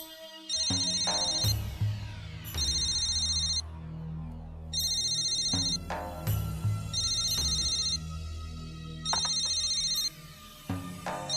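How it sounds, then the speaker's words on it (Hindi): A phone ringtone plays in repeated electronic ringing bursts, several cycles with short pauses between, moderately loud and alone. "आप फोन क्यों नहीं उठा रहे?"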